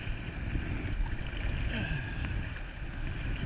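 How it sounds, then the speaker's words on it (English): Paddles stroke through river water beside a canoe in a steady, soft wash of splashing and flow, with faint gurgles and no voices. "Now we paddle, all of us."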